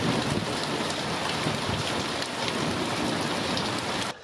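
Heavy rain pours steadily during a May thunderstorm in Colorado, a dense, continuous hiss of drops hammering surfaces close by, dropping off slightly at the very end.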